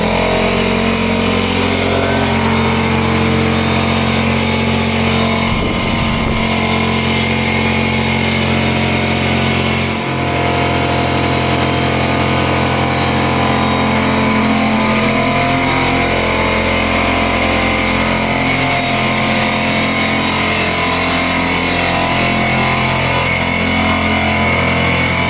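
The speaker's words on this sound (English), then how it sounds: "So I've got an air compressor in here" A 6-gallon, 150 psi air compressor runs close by in a loud, steady, continuous drone with a deep hum and mechanical whine, broken only briefly by small shifts in tone.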